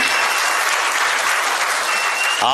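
Audience applause for actor Sasikumar at a Tamil film-team felicitation event: dense, steady clapping from a large crowd, loud and continuous, with no talk over it.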